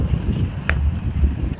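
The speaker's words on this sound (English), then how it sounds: "As you can hear that, it's still windy around here." Wind rumbles and buffets against the microphone in a continuous low roar, with a brief faint tick partway through.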